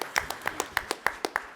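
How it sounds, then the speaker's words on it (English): A small audience at a political leadership forum gives a few sparse, evenly spaced hand claps, quiet and fairly close, with no voices. "Let's give her a round of applause."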